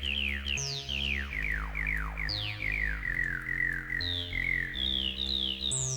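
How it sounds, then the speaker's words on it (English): A resonant phase distortion synth on a PGB-1 plays a sequence of sweeping, chirpy notes over a low bass line, each note gliding in pitch like a filter sweep, steady and rhythmic. "It sounds like a resonant filter, which is pretty nice."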